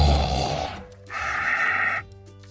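A wolf snoring loudly in a read-aloud fairy tale, voiced by a person imitating the sound: two close, rasping snore breaths, a rough inhale followed by a higher whistling exhale.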